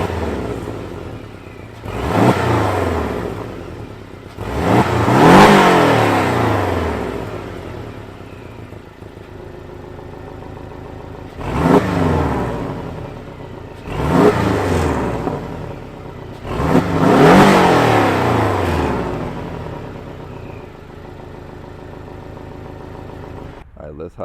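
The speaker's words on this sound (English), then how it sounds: "let's hear this exhaust in sport mode" Four-cylinder exhaust of a 2020 Porsche 718 Cayman base model revving in sport mode, several sharp rising blips with pauses of steady idle between, loud and close.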